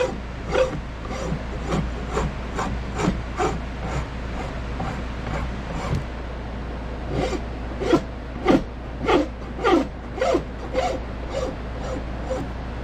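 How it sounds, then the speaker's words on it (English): A rasp chamfers the edges of a new handle on a Bear and Sons Gold Rush Bowie knife, making a steady series of rough, scraping strokes up close, with louder rhythmic passes in the second half. "Chamfer off these edges."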